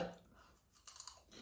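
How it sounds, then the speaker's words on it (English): Food being chewed close up, with soft wet mastication and a few crunchy bites in short irregular bursts, fairly quiet and with no talking over it. "I need to chew my food first."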